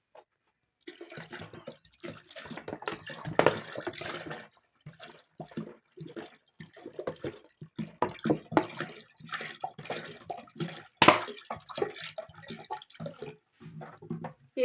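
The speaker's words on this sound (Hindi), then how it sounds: "अब इसमें 2 लीटर पानी साथ डाल देंगे।" Water splashes steadily into a pot for kadhi pakora, roughly two liters poured in a continuous, uneven gush with brief pauses and a few sharper splashes.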